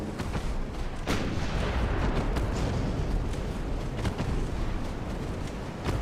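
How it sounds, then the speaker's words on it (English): A warship takes a torpedo hit during a naval battle in Ultimate Admiral: Dreadnoughts, set in 1890 for China: heavy rumbling blasts and booms roll on continuously, with sharp impacts breaking through a dense low roar. "And she just took a torpedo hit?"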